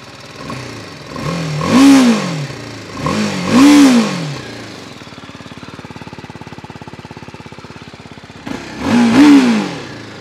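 A 2023 BMW G310R motorcycle engine revved loudly three times, each rising and falling roar separated by a steady, rapid idle putter, heard up close.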